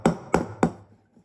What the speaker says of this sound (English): You want to break those by knocking the jug on the counter